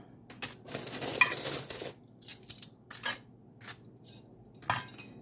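Pieces of vintage metal flatware are set down onto tin foil one after another, giving sharp metallic clinks and crinkly taps in irregular bursts, close to the microphone.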